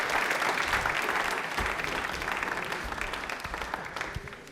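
Loud studio audience applause for a yoga guest on a Rajasthani television question-and-answer show, dense steady clapping that slowly tapers across the whole stretch with no voices on top.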